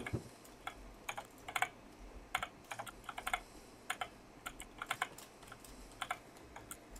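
Fast, light keystrokes clatter on a computer keyboard in irregular bursts of clicks, quiet and close, with no talking.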